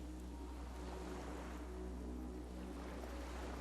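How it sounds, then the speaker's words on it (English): Gentle lapping of waves against a small skiff moored by a dock in the Disco Elysium video game, a soft steady wash of water with a low rumble underneath, calm and continuous. "The skiff is swaying on the waves by the dock."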